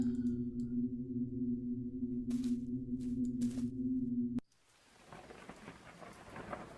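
Rain and a thunderstorm in a point-and-click horror game: a steady low rumble with hiss and faint patter gives way to a broad wash of falling rain, continuous and fairly close.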